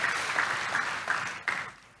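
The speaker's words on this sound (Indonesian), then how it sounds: "Tepuk tangan yang meriah buat Tuhan kita Yesus" A church congregation claps with lively, dense applause that rises in a few surges and then fades out quickly near the end.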